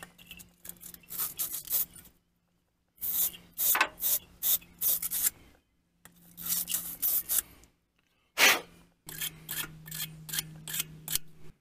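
A brush scrubs green corrosion off a car battery terminal on a 1977 Chevy Impala in quick rasping strokes, grouped in four close bursts separated by short pauses, with no talk.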